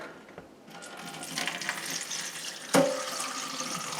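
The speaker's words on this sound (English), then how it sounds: "That's all kinds of water that we're straining out." Water drains out of processed tomatoes through a small strainer, a steady close trickle and splash that swells and carries on with a brief louder clatter partway through.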